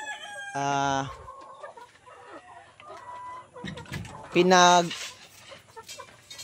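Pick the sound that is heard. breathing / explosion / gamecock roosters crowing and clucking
gamecock roosters crowing and clucking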